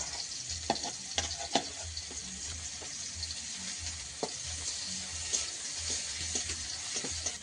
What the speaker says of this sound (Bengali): এখন একটু পেঁয়াজ কুচি দিয়ে দেবো তেলে, দিয়ে কাঁকড়াগুলো ভালোভাবে ভেজে নেব